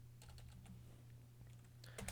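Fast computer keyboard typing of terminal commands, with a burst of keystrokes early, a quieter sparse stretch, then a louder flurry at the end, all over a steady low electrical hum.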